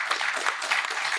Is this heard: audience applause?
yes